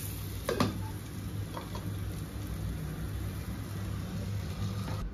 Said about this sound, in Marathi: सगळं व्यवस्थित मिक्स करून घेणार.